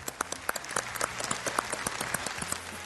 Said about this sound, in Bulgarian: Аплодисменти и за третият опонент в днешната игра